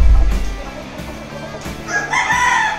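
A rooster crows nearby toward the end, a loud drawn-out call following a few softer clucking sounds.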